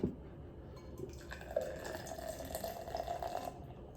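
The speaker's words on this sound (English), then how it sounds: "get these glasses out, get these beers poured" Miller Lite beer pours steadily into a glass for a few seconds, a bubbling, fizzing stream that rises and then tapers off, close by.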